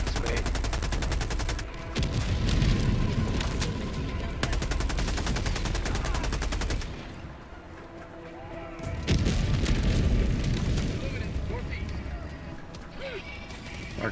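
Rapid assault rifle bursts in the video game Helldivers 2, with loud dense volleys of gunfire and booming impacts in stretches separated by quieter gaps, with a voice talking over parts of the action.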